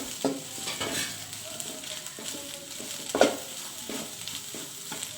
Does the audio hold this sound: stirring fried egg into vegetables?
yes